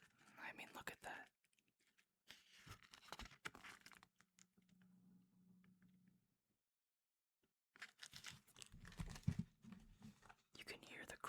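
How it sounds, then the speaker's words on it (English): Old, brittle book pages crunch and crinkle as they are handled, soft close rustles broken by whispered talk and a stretch of near silence. "You can hear the crunch of the paper."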